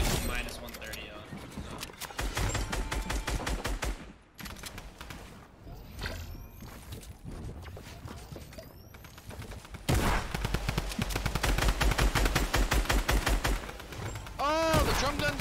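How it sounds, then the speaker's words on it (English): Rapid, sustained drum gun fire in Fortnite, dense automatic bursts that run almost continuously and grow louder toward the end, with a voice talking over the shooting. "Oh, the drum gun's fucking busted."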